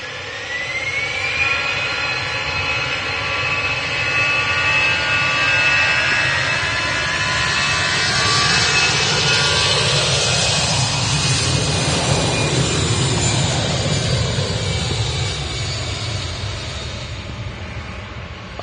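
An RAF Envoy IV jet aircraft departs, its jet engines roaring loud and steady throughout with a rising whine and a broad rushing swell as it passes close by, no talk.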